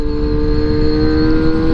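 A powerful naked motorcycle engine runs loud and close with a steady, deep rumble and a constant tone, holding an even pitch without distinct rev spikes across the short stretch.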